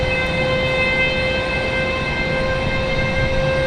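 Boeing C-17 military transport aircraft at Raleigh-Durham International Airport, a steady loud whine with sustained tonal engine hum and broadband rumble held throughout, no voices.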